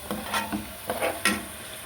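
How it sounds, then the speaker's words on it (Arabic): Onion cooks in a hot pan toward caramelizing, a continuous sizzle with a few brief stirring scrapes, close and moderately loud. "هحط البصله كرمله معايا، كرمل شويه"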